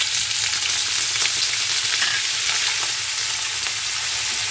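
Potatoes dropped into mixed vegetables frying for karela bhaji, a dense, steady close sizzle with faint stirring scrapes and no voices.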